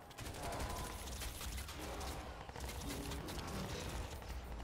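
Bursts of gunfire from the video game Crysis 2 fill the stretch, dense and continuous over a busy loud game soundscape with mechanical clatter, no voice on top.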